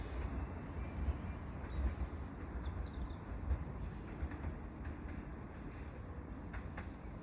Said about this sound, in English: the video of the train going out now